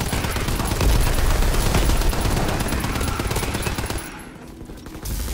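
Rapid continuous gunfire from the Call of Duty WWII zombies game, loud and dense like machine-gun bursts for about four seconds before easing into a lower rumble of game noise.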